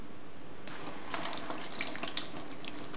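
Warm water pours from a tap onto a substrate block in a large tub, a steady splashing stream starting abruptly and continuing close by with small bright spatters.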